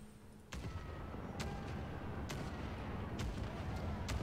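Ship cannons fire in a naval battle in the game Pillars of Eternity 2: Deadfire, a sequence of four or five sharp booms spaced about a second apart over a rumbling backdrop, fairly quiet overall.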